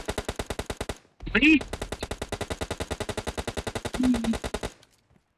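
Rapid, sustained bursts of automatic gunfire in a mobile battle-royale shooter game, loud and close, with a short pause partway and someone talking excitedly over the shots.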